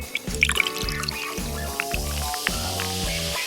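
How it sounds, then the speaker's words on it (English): Soda pours into a laboratory flask in a few short bursts, a near, bubbling trickle with faint fizzing and no talk. "Pour some soda into a laboratory flask."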